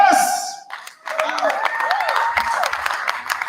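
An audience at a democracy and rights festival closing session claps for an award winner, a brisk, dense patter of hands that rises after a brief lull while a voice speaks over the crowd.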